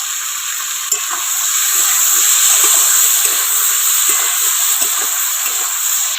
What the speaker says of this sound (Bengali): এখন একটু ঢাকা দিয়ে দেবো।